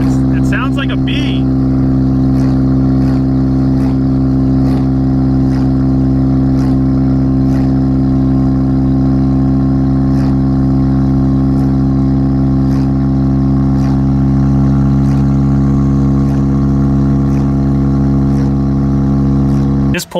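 A Mazda RX7 FC3S Turbo II rotary engine runs steadily and loud throughout, a buzzing, bee-like drone with strong low harmonics and no clear revving swells.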